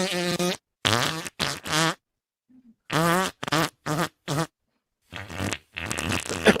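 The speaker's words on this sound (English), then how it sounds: "Did I play Farting 1 or Farting 2 the first time?" Fart sound effects played on a live stream, a series of loud, close, buzzy bursts of varying length separated by short silences.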